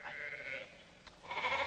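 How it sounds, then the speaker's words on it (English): Sheep bleating nearby in an old comedy film scene, a couple of wavering bleats close together, clear and moderately loud with no talk over them. "No, those are sheep."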